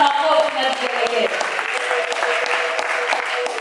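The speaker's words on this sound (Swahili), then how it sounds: "Walio na afya njema piga makofi na vigelegele." A church congregation applauding steadily during a Swahili sermon on spiritual growth, broad clapping sustained for the whole few seconds with cheering and voices mixed in.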